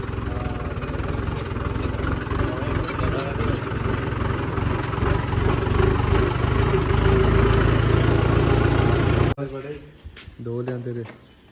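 A tractor engine idles with a steady, loud low rumble for most of the stretch while being fitted with new parts, then cuts away to quieter moments with someone talking.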